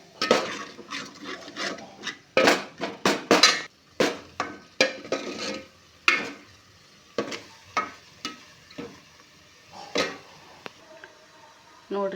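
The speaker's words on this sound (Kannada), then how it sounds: "ಚೆನ್ನಾಗಿ ಈ ಥರ ಎಲ್ಲ ತಿರುಗಿಸ್ಕೊಂಡು ಫ್ರೈ ಮಾಡಬೇಕು." Grated coconut paste for a fish sambar is stirred and fried in a pan, with a faint sizzle under irregular scraping and clinking strokes of a spoon against the pan, close up, with intermittent talking.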